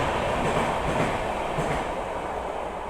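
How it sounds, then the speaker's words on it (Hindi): A passing express train, the Golden Temple Mail, rushes by close alongside a moving double-decker coach, a steady loud rumble of wheels and carriages filling the whole stretch with no voices. "गोल्डन टेम्पल मेल हमें ओवरटेक करके जा रही है।"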